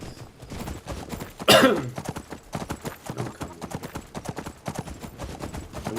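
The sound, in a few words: horse hooves clip-clopping in video game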